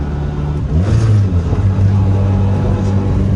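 A car with a newly installed dog box gearbox revs sharply as the driver blips the throttle to rev-match a downshift into third, a loud, close engine rising and settling into a steady drone.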